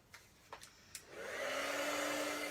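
After a few light taps, a heat gun melting embossing powder on a craft project whirs up and holds a steady, close, breathy blowing hum with a faint whine.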